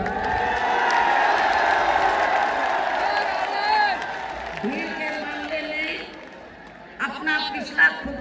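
Large crowd at a Mayawati political rally cheering and clapping, a broad sustained roar that swells and then thins, with voices and whoops rising through it and a few sharper bursts near the end.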